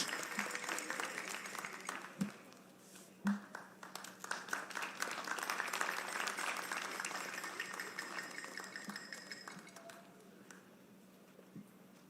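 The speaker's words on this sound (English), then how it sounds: "A round of applause as she joins us on stage." An audience at the NSMQ 2020 final quiz contest applauds as a managing director joins the stage, with sustained, somewhat distant clapping that swells and holds before tapering off, broken by a few louder individual claps.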